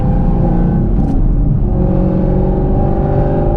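A car engine drones loudly and steadily from inside the moving vehicle, its pitch shifting as it revs while driving, with no talk over it.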